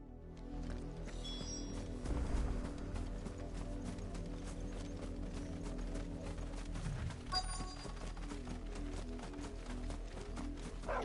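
A windmill mechanism turns steadily in the video game Final Fantasy XVI, giving a continuous rhythmic wooden clatter and creak of gears, like clip-clop ticking, over a low rumbling bed that runs throughout.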